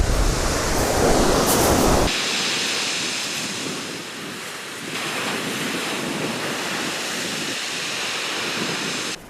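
Waves wash steadily onto a shallow UK beach under strong, buffeting wind, a continuous loud surf roar with wind noise hitting the microphone and no voices.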